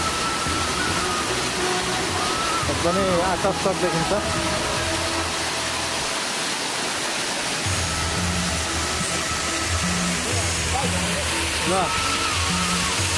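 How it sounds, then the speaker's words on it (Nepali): Dheplung waterfall roars as a steady, dense wash of rushing water throughout, with someone talking over it partway through and faint other sounds mixed into the constant noise. "फाइनली हामी धेप्लुङ झरना आइपुगेको छौँ।"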